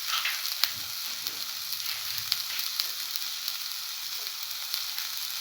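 A scrambled egg stir fry crackles in a hot pan, with a steady bright sizzle and scattered small pops throughout and no voices.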